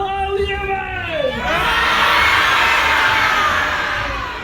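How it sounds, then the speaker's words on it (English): A large crowd of children and adults at Magic Kingdom, Walt Disney World, bursts into loud, sustained screaming and cheering after a performer's greeting, the roar swelling and holding for several seconds. "You throw your hands up in the air and scream as loud as you can like you saw a monster"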